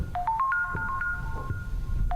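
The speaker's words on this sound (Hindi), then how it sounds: "कहीं पर कोई फोन बजने का साउंड आ रहा है।" A phone ringtone plays inside the Granny horror game house, a clear melodic run of electronic tones repeating over a low background hum, loud and close with no talk over it.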